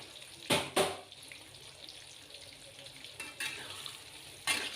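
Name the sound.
purple eggplant frying in hot cooking oil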